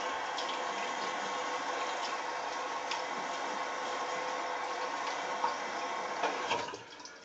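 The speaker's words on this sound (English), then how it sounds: "quick rinse" Running water from a tap rinses a straight razor, a steady continuous splash and flow filling the scene at moderate level before tapering off near the end.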